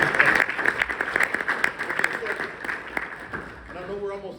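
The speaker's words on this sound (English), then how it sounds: "let's give him a round of applause" An audience at a drum set masterclass breaks into steady applause, many hands clapping at moderate volume before fading as a voice starts speaking.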